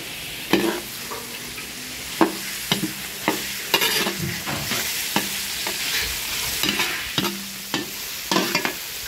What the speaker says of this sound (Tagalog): habang pinapupula natin bawang sibuyas natin